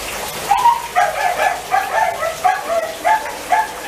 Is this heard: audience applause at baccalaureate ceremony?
no